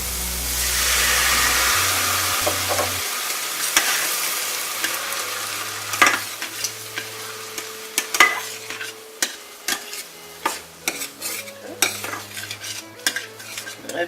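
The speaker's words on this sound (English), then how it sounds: "I'm going to go ahead on and add my bourbon." Bourbon poured into a hot pan, a loud hissing surge of sizzle at first that settles into lighter frying, followed by repeated clinks and scrapes of a utensil stirring against the pan.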